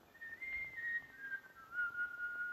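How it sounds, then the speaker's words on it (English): A man whistles a tune alone, a single clear wavering melody held fairly close, with a faint room hiss underneath and no talking. "Can't you shut up with that damn whistling, Sam?"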